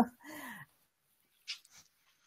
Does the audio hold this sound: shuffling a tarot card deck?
no